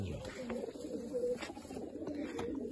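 Soft, low pigeon coos repeat in a gentle rolling rhythm close by, with faint rustling and background noise around them.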